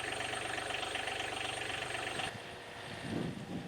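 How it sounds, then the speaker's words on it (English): A diesel tractor engine idles steadily after starting, warming up with a dense, rumbling knock that drops off partway through, leaving a lower, rougher running sound up close. "So we let the tractor warm up a little bit there"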